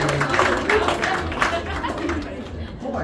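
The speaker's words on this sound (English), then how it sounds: "A round of applause for Michael" Light clapping and crowd chatter from a small audience at an intimate magic show, steady and moderately close, with voices mixing into the applause throughout.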